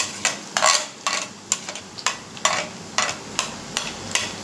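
Crushed garlic and mustard seeds fry in hot oil under repeated scraping strokes of a spoon against the pan, a regular rhythm of stirring scrapes over a soft sizzle, close and fairly loud.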